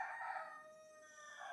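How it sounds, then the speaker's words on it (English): A rooster crows in the distance, one drawn-out, faint call sounding clearly and alone over quiet background. "George, my rooster's like crowing at that"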